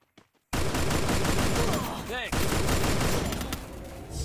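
Dense, loud gunfire from the Free Fire video game bursts in after a brief quiet start and continues as a sustained volley, with a sweeping game effect partway through.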